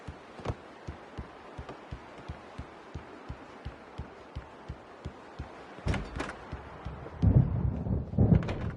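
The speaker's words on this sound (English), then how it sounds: "The storm is almost over." Thunder rumbles and cracks from a passing storm near its end, loud bursts breaking over a steady patter of rain with a regular low thumping beneath.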